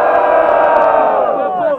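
A crowd at a Brazilian student freestyle rap battle roars and cheers loudly in the third round, a dense, sustained wall of shouting and whooping that stays strong throughout.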